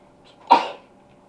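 A single close sneeze bursts out sharply and fades within a fraction of a second, heard alone against quiet room tone.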